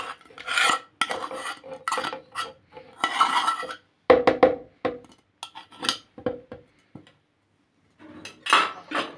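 A whisk or spoon clatters briskly against a bowl while Syrian garlic sauce (toum) is beaten with starch, giving irregular bursts of scraping and clinking with short pauses between them.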